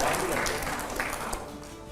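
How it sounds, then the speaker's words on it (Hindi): Audience clapping fills the clip, fairly loud at first and tapering slightly, with a few brief voice-like sounds mixed in. "जोरदार तालियां अगले सवाल के लिए, जोरदार तालियां हो।"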